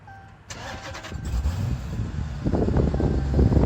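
A Dodge Challenger SRT 392 Hemi with a six-speed manual cranks briefly and fires up, settling into a loud, rumbling idle that grows heavier and rougher toward the end, heard close by with no talk.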